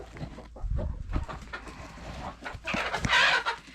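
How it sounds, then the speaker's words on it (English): Chickens clucking in their outdoor run, several nearby birds giving short, uneven clucks and a louder squawk near the end, with no voices. "our chickens are pretty happy and they really enjoy their run"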